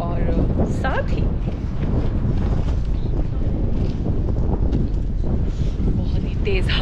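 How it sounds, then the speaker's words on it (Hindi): Strong wind on the Leh-Manali highway buffets the microphone with a steady, loud roaring rumble throughout, with faint voices partly buried beneath it. "बहुत ही तेज हवाएं चल रही है इसलिए ठंड लग रही है"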